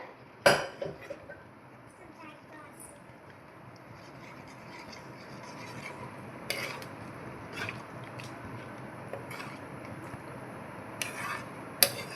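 A spoon scrapes and stirs through thick sothi curry with mashed moong dal in a pot, soft wet rubbing punctuated by a few sharp clinks against the metal rim, quiet and close.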